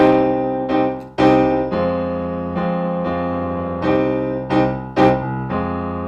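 Full strummed basic triad guitar chords for a song change every second or so, ringing with sustain and a few sharp accents, no voices.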